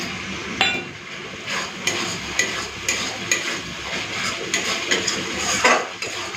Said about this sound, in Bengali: এখন আমি দিয়ে দেবো টমেটো কুচি মশলাটা খুব ভালো মতো কষে নিয়েছি দিচ্ছি টমেটো কুচি